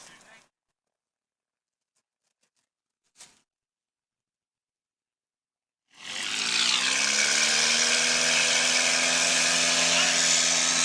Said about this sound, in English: That was a beautiful takeoff.